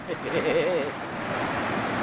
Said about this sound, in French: Au bord du ruisseau. Au bord du torrent, plus précisément.